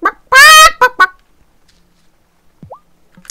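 A chicken in the farming video game Wylde Flowers gives a few loud, close clucks in quick succession, then quiet, then a faint short squawk near the end.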